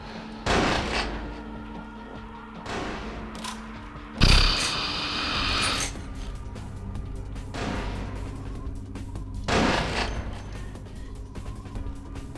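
Scattered gunshots and mechanical clanks in Vampire: The Masquerade – Bloodlines during a boss fight, over a busy background, with a few sharp bursts standing out.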